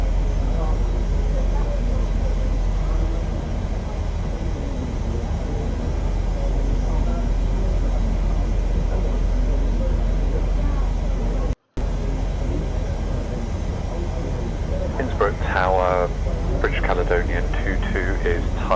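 Boeing 737-700 airliner in Microsoft Flight Simulator 2020, a steady, sustained engine rumble lasting throughout, with radio voices talking over it near the end.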